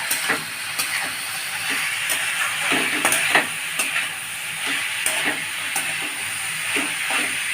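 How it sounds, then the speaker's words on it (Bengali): Vegetables sizzle and crackle in a hot pan, with periodic scraping and stirring clatters of a utensil, close and steady, no talking. "ভেজিটেবলসগুলো আমি ভাজছি, এরপরে মশলা দেবো"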